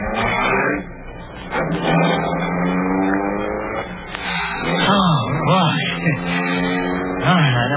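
A car engine revs and pulls away in an old radio drama set in occupied Paris, loud and close, its pitch rising and wavering as it accelerates.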